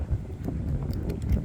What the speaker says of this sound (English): unfortunately the wind takes over